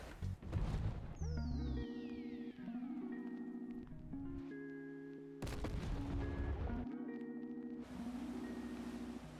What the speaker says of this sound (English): So we can see now the American 8-inch gun's now firing at the Chinese